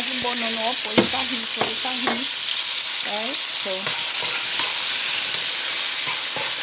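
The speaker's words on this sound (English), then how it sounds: "fry up the garlic, tomato, and so on" Garlic and tomato frying in a pan give a loud, steady hiss with sharp scraping stirs, while short tonal squeaks and clatter rise above the sizzle.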